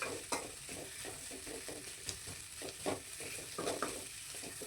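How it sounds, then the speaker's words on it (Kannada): Chopped onions frying in a pan for mutton sukka, a soft steady sizzle broken by repeated scraping stirs of a spoon against the pan, close and quiet with no talking. "ಈ ಈರುಳ್ಳಿ ಮಾತ್ರ ಚೆನ್ನಾಗಿ ಫ್ರೈ ಆಗಬೇಕು."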